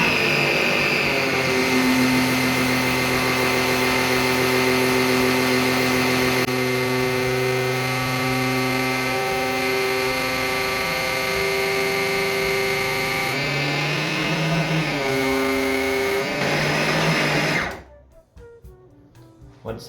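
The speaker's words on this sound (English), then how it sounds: "we can switch the pump on and hope we see some oil coming up" A pump runs steadily and loudly during a Yamaha WaveRunner jet ski oil service, holding a sustained mechanical hum with strong tonal whine for most of the time before cutting off abruptly near the end.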